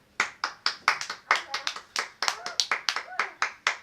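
Children clap at a home puppet show, about a dozen sharp, close, irregular claps spread over four seconds, with small voices talking between them.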